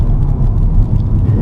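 A 2016 Peugeot 308 GTi hot hatch on the move, a steady low engine and road rumble heard from inside the cabin, loud and continuous with no talking.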